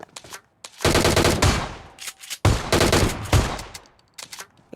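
Automatic gunfire in PUBG Mobile comes in two long, loud, rapid bursts, with a few scattered single shots before, between and after them.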